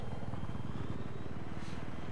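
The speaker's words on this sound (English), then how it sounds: "We got the attack chopper as well." An attack helicopter in Battlefield 3, a steady dense rotor and engine drone that holds loud and close for the whole stretch, with no voices over it.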